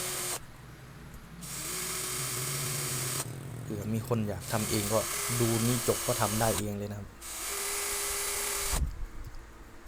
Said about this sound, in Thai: ตอกตอกตอกนำศูนย์แล้วก็เจาะเจาะเจาะนะ